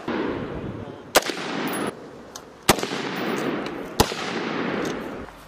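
Rifle shots fired on a military range at a weapons lane event, three sharp loud cracks spaced a second or more apart over a steady background hiss.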